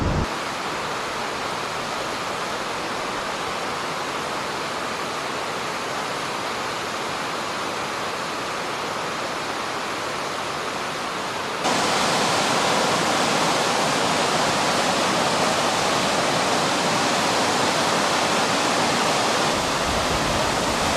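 A waterfall on the Appalachian Trail roars as a dense, steady rush of white water, loud and close, growing noticeably louder and brighter partway through with no voices over it.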